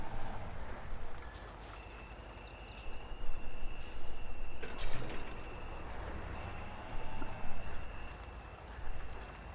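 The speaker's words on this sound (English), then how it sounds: "And I hear a train." In the Spintires: Mudrunner video game, a train rumbles past in the distance, a low continuous rolling drone with faint squeals, under engine noise.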